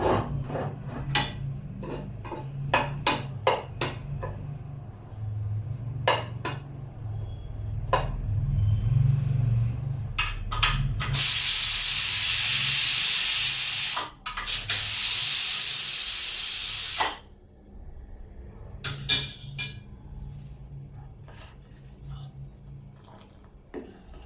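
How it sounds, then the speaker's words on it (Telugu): Cashews frying golden in a pan for a Diwali sweet: bursts of loud sizzling hiss that swell for several seconds and then fade, mixed with clinks and scraping of utensils, up close in a home kitchen. "జీడిపప్పు తెలుసు కదా మీకు గోల్డ్ కలర్లో వేగాలి మనకి"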